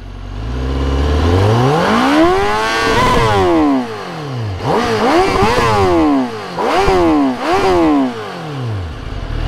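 A Honda CBR motorcycle with its stock exhaust valve opened revs hard several times, the engine note climbing and falling in loud, close, throaty sweeps with short pauses between the revs.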